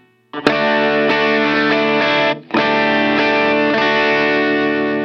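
Electric guitar played through a Line 6 POD Go compressor set to a full 100% mix: sustained distorted chords ring out loud and even, with a brief break near the middle before the next strum, chorus-like shimmer, no voices.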